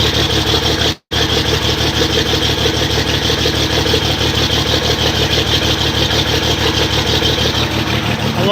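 A John Deere tractor with a 504 cubic inch engine idles close by, a steady low rhythmic chugging that holds even and loud, with a brief dropout near the start.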